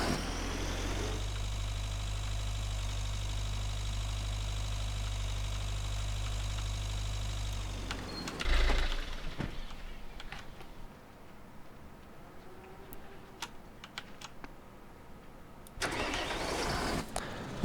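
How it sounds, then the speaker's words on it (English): A tractor engine in the Agricultural Simulator 2013 farming game runs as a loud, steady drone that cuts off, leaving a quiet stretch with faint clicks, then revs up again briefly near the end. "Let me get this tractor out of here."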